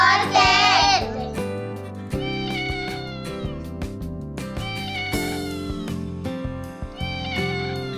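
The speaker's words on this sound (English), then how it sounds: "C for cat." A single drawn-out cat meow rings out at the start of a children's phonics alphabet song, then bright, bouncy music carries on steadily without it.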